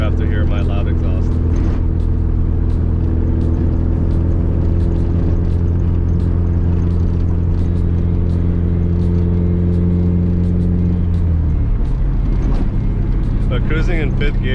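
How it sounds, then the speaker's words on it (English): Nissan 240 with a test pipe fitted, loud droning exhaust while driving, a steady low rumble with a shift in pitch near the end, heard inside the car under occasional talk. "That test pipe did make it a little bit louder, so I'm sorry for all the people who have to hear my loud exhaust."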